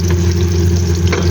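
Garlic and bay leaf fry in hot oil with a loud, even sizzle and a steady low hum underneath, brief and continuous.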